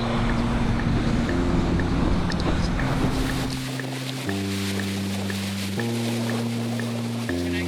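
A boat motor on the River Severn during the Severn Bore drones steadily with shifting low tones over rushing wind and water, fairly loud and continuous, no voices.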